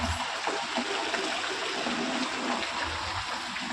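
Rainwater rushing strongly during heavy rain, a steady broadband wash of flowing water that stays loud and constant throughout with no talk.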